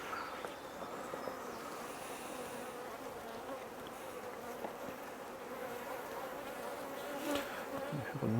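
Honey bees buzzing steadily on a hive frame during a nuc transfer, a close, continuous drone that holds evenly throughout with no talking.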